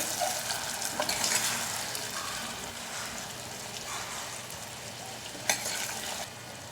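Stuffed Kathiyawadi brinjal and potato curry stirred with spice masala in a hot pan, a steady close sizzle with scraping stirs and a sharp clink near the end, no voices.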